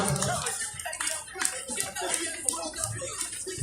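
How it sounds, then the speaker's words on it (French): Spectators at a FISE 2019 expert skateboarding contest clap in a scattered burst of applause, with a few chuckles and faint voices mixed in, moderately close and fairly quiet. "on peut applaudir"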